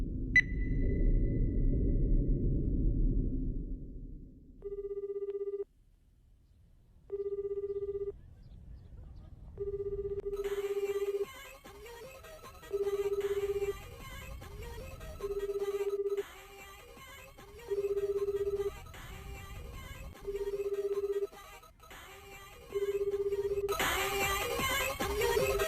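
A dropped mobile phone rings with a repeating electronic ringtone in regular pulses, each tone followed by a short gap, heard after a rumbling, noisy opening, with a bright burst at the end.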